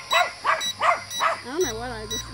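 A dog barks repeatedly at a small tracker drone, four evenly spaced sharp barks followed by a drawn-out whining yelp, close and loud.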